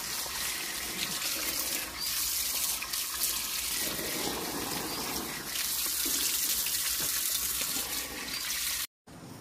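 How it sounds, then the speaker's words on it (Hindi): Tap water runs continuously and splashes as leaves are washed under it, a steady close hiss that cuts off abruptly at the very end. "ये अनु बंडे की पत्ती धो रही है"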